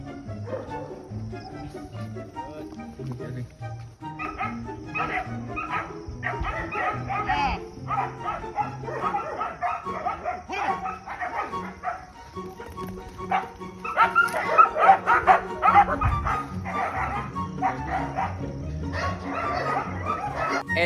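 Dogs barking in repeated bursts of close, loud barks and yips, with some whimpering, mixed with someone speaking in Filipino over them.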